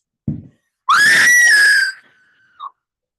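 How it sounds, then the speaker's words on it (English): A brief low rumble, then a loud, piercing scream that rises, holds shrill for about a second, and trails off into a thin fading wail. "screams"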